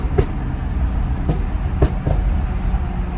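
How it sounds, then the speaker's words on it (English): A BMW M340i fitted with exhaust tips lets out four sharp exhaust pops over a steady engine rumble, the cracks sounding slightly distant and irregularly spaced, with no talking. "my pops sound kind of like they're further away from the car"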